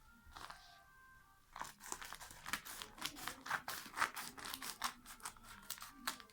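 Scissors snip through package wrapping around a solar charge controller, making close, crisp crinkling cuts in a steady run of short strokes after a brief quieter start.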